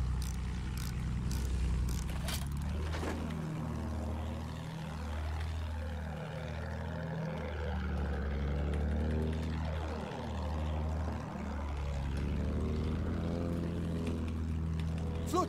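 A propeller aircraft flies in the Battlefield 1 video game, its engine holding a steady loud drone as pitch sweeps rise and fall in repeated passes over the full stretch.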